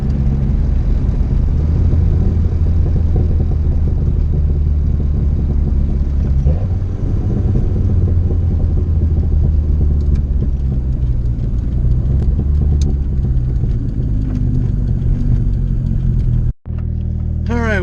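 A big-turbo Volvo engine drones loud and steady under boost, a deep continuous rumble with rising and falling load, close up, then it abruptly cuts out near the end.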